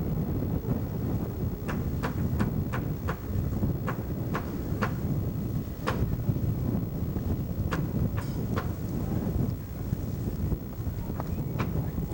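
Steady wind in Mussoorie, India roars and buffets against the microphone throughout, a low rumbling rush, with scattered sharp ticks and clicks over it.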